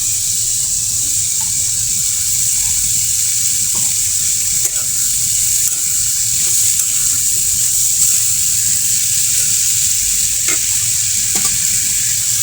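Lata greens stir-fried in hot spiced oil, a loud continuous sizzle with the periodic scrape and clack of a spoon stirring the pan, close and steady.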